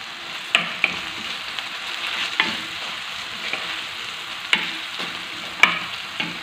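Tomato and spices stirred and frying in a pan: a continuous soft sizzle with sharp spoon scrapes and taps recurring every second or so, close and alone.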